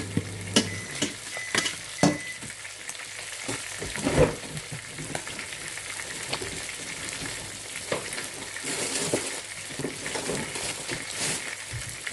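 Tomato mixture stirred in a pan, a close, steady frying sizzle punctuated by scattered scrapes and knocks of the spoon against the pan.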